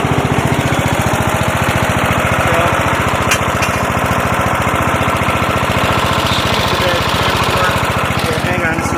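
A 2000 Murray wide-body lawn tractor with a 14.5 HP engine idles steadily nearby, a loud continuous chugging drone with rapid even pulses that never falters or dies down.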